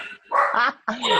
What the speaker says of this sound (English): Oh, I'm so sorry. That's my dog.